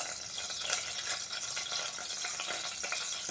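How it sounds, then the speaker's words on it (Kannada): Mustard seeds, chana dal, urad dal, cumin and fenugreek sizzle steadily in hot ghee and oil in a pressure cooker pot for broken-wheat khichdi, a close, dense hiss flecked with small crackling pops and no voices. "ಇವಾಗ ಒಗ್ಗರಣೆ ಸಾಮಾನು ಹಾಕ್ತೀನಿ."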